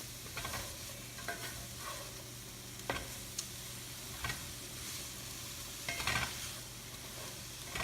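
Frozen broccoli hits a hot pan with sausage and sizzles in a steady crackling hiss, joined by a few scraping stirs and clinks of a utensil against the pan.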